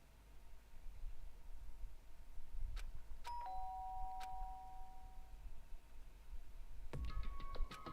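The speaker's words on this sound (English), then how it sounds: "did I hear the doorbell?" A video game doorbell rings in a chime pattern, with two sustained tones near the middle, then a quick run of bright chime strikes near the end. Low background hum sits underneath and nobody speaks.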